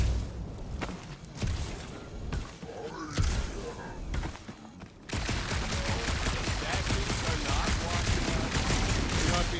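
Sustained gunfire in the video game Marvel's Guardians of the Galaxy, with scattered shots and thumps in the first half giving way to a dense, continuous burst of fire in the second half, with some speech mixed in.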